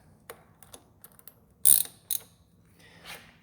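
Mechanical clicks and a ratcheting burst while an 18mm nut is tightened on the worm shaft of a rotary table during motor adapter installation; sparse close taps, then two louder ratchet-like bursts and a soft scrape.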